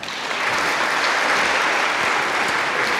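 A library audience at a civic event gives sustained, dense applause, loud and even throughout, with no talking over it.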